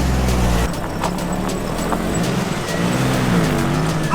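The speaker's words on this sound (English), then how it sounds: "I'm gonna back down this steep spot and put it in four-wheel drive and see if I get any of that slippage again," A vehicle backing down a steep slope in four-wheel drive after a transfer case repair with a new chain and bearings in an NP231, its engine a steady loud drone with a low rumble and a brief heavier start.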